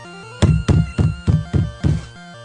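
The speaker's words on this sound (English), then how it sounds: "I banged my fist hard on the door." A fist bangs hard on a locked door, about six heavy, close thuds in a quick, forceful rhythm.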